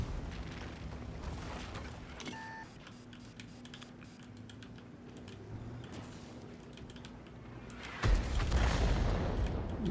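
A high-explosive round fired from a WZ-111 Qilin tank's cannon in the World of Tanks video game, a single heavy boom landing near the end after a stretch of low game ambience and faint clicking.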